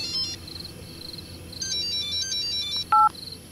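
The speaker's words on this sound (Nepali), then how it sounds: "कसले फोन गर्यो फेरि?" A mobile phone signals an incoming call with a thin, high electronic ringtone of repeated short chirps, moderately loud and alone, ending in a brief brighter beep.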